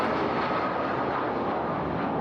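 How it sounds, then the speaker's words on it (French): An airplane takes off with a loud, steady, broadband engine roar that holds close and constant throughout, with no voices. "L'avion décolle."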